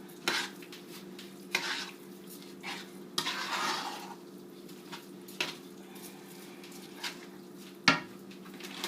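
A spoon stirs a rice mixture for arroz con gandules in a pot as cups of liquid are gradually added, with scattered scrapes and a few sharp utensil knocks against the pot over quiet background.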